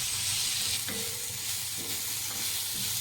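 Onion, tomato and garlic sautéing on a griddle over low heat give a steady, close sizzle with soft spatula scrapes and stirring, and no one speaks.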